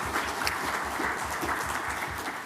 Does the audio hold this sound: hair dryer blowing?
no